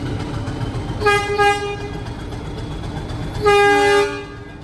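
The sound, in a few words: small five-compartment mountain train to Ooty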